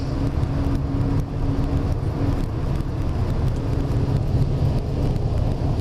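A Nissan Spec V driving at night, heard from inside the cabin: a steady, loud rumble of engine and road noise with wind hiss, and no talking.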